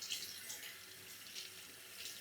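A kitchen tap runs cool water over cooked okra being rinsed, a steady, quiet hiss of flowing water into a sink with no talking.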